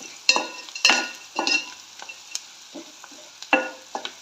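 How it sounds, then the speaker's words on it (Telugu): Dried fish tossed with softened onions and turmeric in a pan, sizzling loudly up close while a spatula stirs in irregular bursts of scraping and clatter. "ఈ చేపలు వేసి చేపలు కూడా ఎర్రగా వేగేలాగా చూసుకోవాలి"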